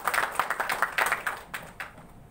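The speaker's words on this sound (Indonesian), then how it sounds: "Tepuk tangan untuk kita semuanya." A small audience claps at a political consolidation event in Medan, a brief burst of quick, close hand claps that thins out into a few scattered claps before fading.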